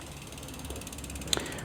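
A bicycle derailleur's top limit screw is adjusted on an e-bike, giving soft, close ratcheting mechanical ticks over a quiet background, with one sharper click near the end.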